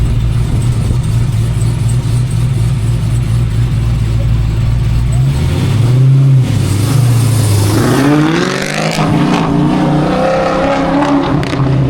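A car with an LT5 engine, sequential gearbox and carbon fiber parts revs hard at a car show at Dover Motor Speedway, its loud engine note rising and falling in repeated blips, with crowd noise and voices around it.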